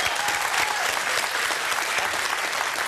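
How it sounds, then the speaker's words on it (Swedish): Dense, sustained applause from a large studio audience on the Swedish TV show BingoLotto, steady and loud throughout with no talking. "Stor applåd"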